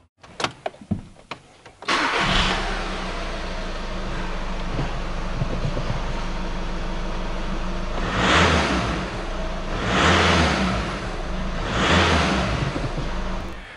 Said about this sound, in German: jetzt starten wir das erste Mal den Motor